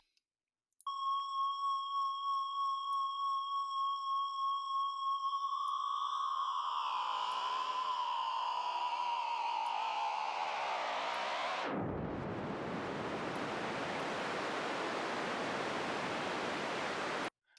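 Resonant synthetic noise generated in the Valhalla UberMod plugin: steady ringing tones that smear into swirling, watery resonant noise, then collapse into a loud, broad hiss before cutting off, with no talking.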